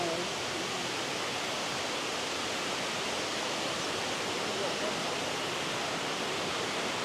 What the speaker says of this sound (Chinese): 这个瀑布它的落差呢，